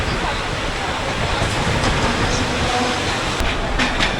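Inside a crowded Mumbai suburban train, a steady, loud rumble and rattle of the moving carriage fills the whole stretch, with a faint murmur of voices under it.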